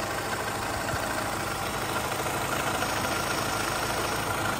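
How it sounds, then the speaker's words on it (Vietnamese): A 2008 Chevrolet Vivant seven-seater's engine idles steadily and smoothly, a continuous even hum with no talking over it. "Máy nổ rất êm."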